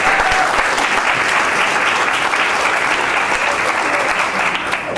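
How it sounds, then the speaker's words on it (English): Audience applause at a youth tech program graduation ceremony in Austin, steady dense clapping from a large crowd that holds at full level for the whole stretch. "let's give them a big round of applause"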